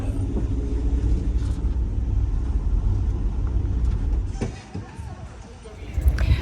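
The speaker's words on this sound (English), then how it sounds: "We're getting the bus." A local town bus on the Amalfi Coast rumbles along steadily, its low engine drone and road noise continuous and close.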